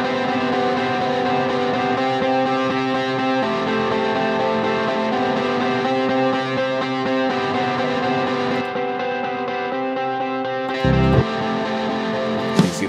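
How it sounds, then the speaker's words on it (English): Sustained doubled, distorted electric guitar lead with a thick, layered tone, two stacked takes, playing continuously and loudly for the whole stretch, with a brief thump near the end. "The other one has a little bit more distortion, but a very simple guitar lead section."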